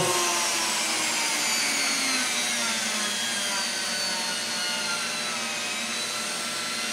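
Buffing wheel motor turned down to a slower speed while polishing a Kydex holster, a steady loud whirring hum with a slowly falling tone and no speech.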